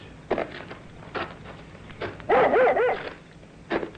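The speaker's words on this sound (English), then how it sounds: "what's the matter with your dog?" A dog barks excitedly in a series of sharp, close yaps with a short whining run in the middle, the bursts spaced irregularly and standing alone without talk.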